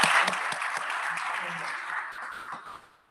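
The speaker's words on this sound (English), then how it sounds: "Let's give him another round of applause." Applause at a county board of commissioners meeting honoring Mr. Borger, a brief round of clapping from a modest group of people that tapers off at the end, with some talk underneath.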